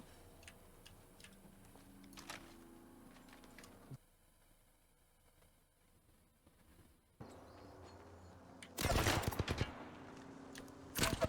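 Gunfire in Apex Legends, faint and distant at first, then a short loud burst of rapid shots near the end, with quiet game ambience in between.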